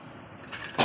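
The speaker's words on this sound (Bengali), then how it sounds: "তোমার তো কাশি হচ্ছে গো।" A person coughs indoors at home during a meal, two short rough bursts near the end, the second louder, after a quiet stretch.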